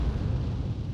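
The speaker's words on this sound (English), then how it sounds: "Skynet dropping bombs!" Video game bombs explode in a short, deep rumbling burst, loud and close, with no voices.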